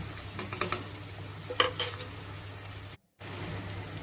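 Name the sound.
stirring onion, tomato and salt in a pan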